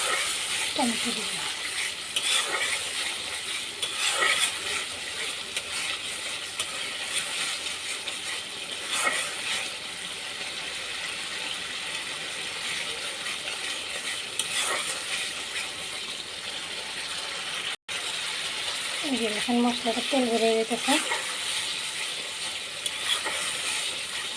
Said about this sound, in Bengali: এই এখন মশলাটা একটু কষায় আনবো